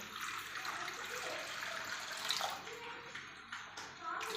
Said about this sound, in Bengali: এবার আমি কড়াতে জল দিয়ে দেব